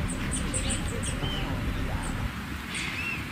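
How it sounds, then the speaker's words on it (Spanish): Small birds chirp in short, high, repeated tweets over a steady broadband background hiss, fairly faint and scattered across a few seconds. "¿Escuchan los pajaritos?"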